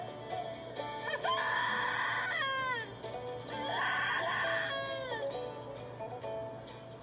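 A shrill locator call mimics a distressed coyote or hare to draw a response from wild turkeys, giving two long, wavering, high-pitched wailing bursts with falling, cry-like pitch slides, loud and close with no talking.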